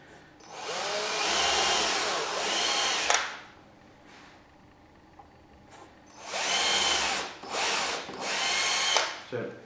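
A power drill whirs in two long bursts drilling holes in a wargaming tabletop, revving and whining at close range, separated by a quieter pause with small clicks.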